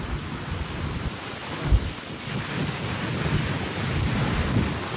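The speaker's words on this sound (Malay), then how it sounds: "Angin kuat je." Strong wind from a tropical storm roars steadily in broadband gusts near the coast, with rough surf churning underneath and a brief thump partway through.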